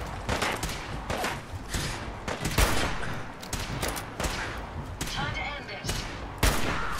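Repeated sharp gunshots in Fallout 4 Far Harbor ring out irregularly across a busy combat soundscape, some booming louder than others, with a voice talking underneath.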